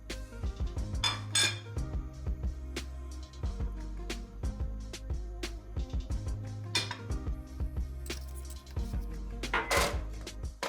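A large pot is set down on a lit stovetop burner while flour halva is being made, giving a few sharp metallic clanks and knocks over a steady, continuous background of tones.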